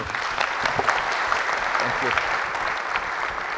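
An audience at a leadership session in Nashik applauds Yogesh with a steady, moderately loud burst of clapping from many hands. Faint talk is mixed in.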